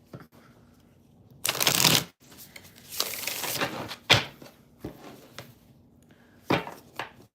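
Tarot cards being shuffled during a live reading: several bursts of riffling and sliding card noise, close and crisp, separated by quiet pauses and a few light taps, with no talk.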